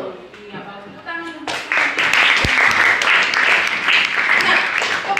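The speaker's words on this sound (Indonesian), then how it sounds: "Tepuk tangan." Students in an Indonesian language classroom break into applause, a burst of many hands clapping that starts suddenly and continues steadily, following a teacher's speech.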